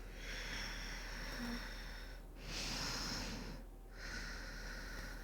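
Slow, deep nasal breaths during a prenatal yoga flow, each long airy inhale or exhale lasting a couple of seconds with brief pauses between, close and fairly loud with no talking.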